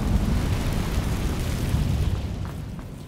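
An Incendio fire spell is cast in Hogwarts Legacy, making a loud, continuous roaring rush of flame, like a boom that holds, which tapers slightly near the end without any voices.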